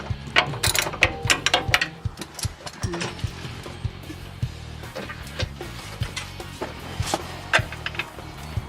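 Hand tools work on shocks during an AEV lift install on a Jeep Wrangler JK, giving rapid, close ratchet clicking in repeated bursts with metallic knocks between them.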